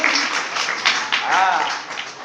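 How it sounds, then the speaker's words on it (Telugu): A church congregation claps in praise during a sermon, a sustained wash of hand claps blended with voices and cheering over just over two seconds. "చప్పట్లు కొట్టి దేవుని స్తుతించారు"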